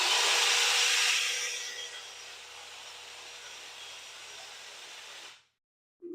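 A battery-powered brushless trimmer with an extension pole and pole saw attachment whirs up at high speed, settles to a steadier hum and then cuts off abruptly.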